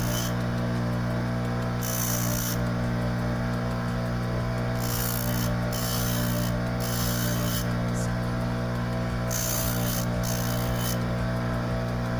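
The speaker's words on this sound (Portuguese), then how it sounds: "Então eu vou afiar essa broca para vocês verem que é da mesma forma" A small metal drill bit is sharpened by hand, giving a continuous gritty rasping scrape with periodic brighter bursts as strokes change, steady and close, with a constant low hum underneath and no speech.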